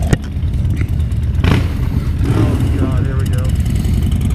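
A 2014 Harley-Davidson Dyna Street Bob motorcycle engine rumbles loud and close with a deep, shaking idle that swells briefly as if revved, while people talk over it.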